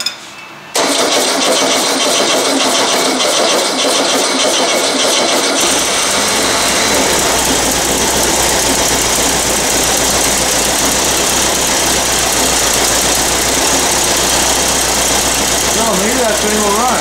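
An old carburetted Volkswagen engine that sat dry and unused for eight years cranks, catches and then settles into a loud, steady, rough idle close by.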